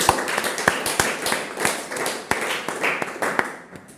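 Applause for Padmaprasad Huli at a summer camp gathering: a small group claps in an uneven, moderately loud patter of sharp hand slaps that continues throughout and thins toward the end.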